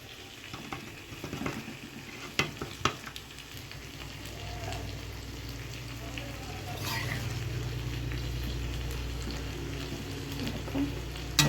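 Eggplant and fish curry frying in a pan, the oil sizzling and crackling steadily throughout, with a few sharper clicks near the start and no talking.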